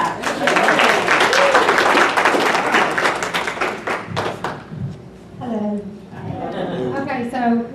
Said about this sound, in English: Give her a hand clap.